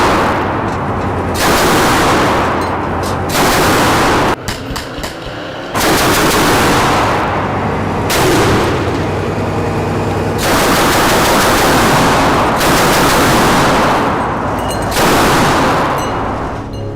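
A BMD-4 airborne armored vehicle fires its tank-type cannon in a series of loud, booming bursts with brief gaps between them, each blast rolling into a long, noisy echo.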